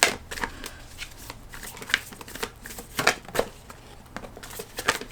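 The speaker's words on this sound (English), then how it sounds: "so I'm gonna put them back and shuffle again." Tarot cards are shuffled by hand in a quiet room, with repeated crisp riffling bursts and soft slaps at an uneven rhythm, close and clear, with no voices.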